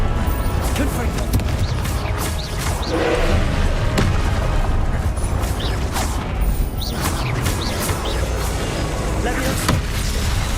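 Repeated Confringo fire-blast spells in Hogwarts Legacy, punchy explosive bursts and impacts scattered through dense continuous game combat noise, with spoken spell calls mixed in.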